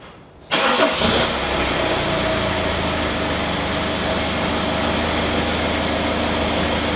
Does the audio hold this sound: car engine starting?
yes